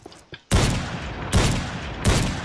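Golden Deagle pistol fired in a video game: three loud, sharp shots roughly 0.8 seconds apart, each ringing out with a long reverberant tail, preceded by faint soft clicks.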